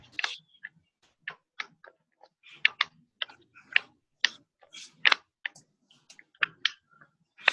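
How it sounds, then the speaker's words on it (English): Crunching and crinkling of post-it notes being handled indoors, a steady run of sharp dry clicks and crackles close to the mic with no talking. "the crunching noise is my post-it"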